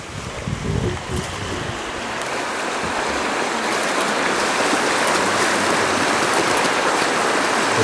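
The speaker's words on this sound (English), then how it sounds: "As fast as that water's moving." Fast-moving river water rushes in Denali National Park, a dense, continuous broadband roar that grows slightly louder after a few low bumps at the start, with no voices.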